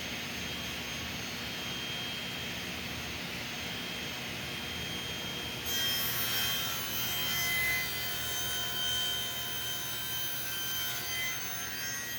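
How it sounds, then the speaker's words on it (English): Through mortises being cut in the wooden top of a rustic modern speaker stand with a flush-cutting jig: a loud, steady, high-pitched router-like whine that becomes harsher and louder midway as the bit bites into the wood. "I'm going to cut the through mortises on the tops for the speaker stand."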